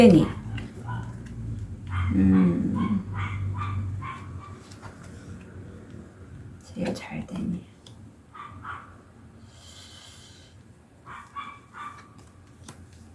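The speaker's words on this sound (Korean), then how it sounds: "개가 짖고 있네요, 개가." A dog barks in repeated short bursts through an open window on a hot day, set back at moderate distance, while a person speaks nearby between and over the barks.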